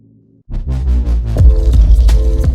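After a faint low hum, loud music kicks in dominated by booming, throbbing bass, heavy low-end thumps pounding steadily and drowning the rest of the mix.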